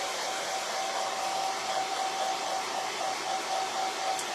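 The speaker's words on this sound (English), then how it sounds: "This is actually my teenager's hairdryer that I stole from her bathroom." A teenager's hair dryer used as a craft heat tool, blowing in a continuous steady roar with a faint high motor whine, running alone without pause.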